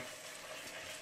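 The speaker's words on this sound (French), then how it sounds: "On mélange bien" Green lentils being stirred in a soup pot, a steady, close, broadband scraping and swishing that runs without pause for about a second, with no voices.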